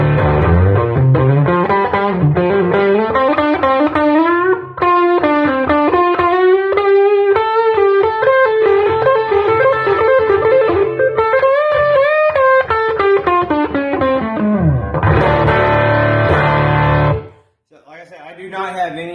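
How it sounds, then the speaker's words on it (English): Electric guitar played through a Fender Excelsior tube amp from the neck humbucker, with natural tube breakup and no pedal engaged, ringing out loud melodic lines and sustained notes before a final strum fades out. "That's just natural tube breakup, which is what this amp was meant for"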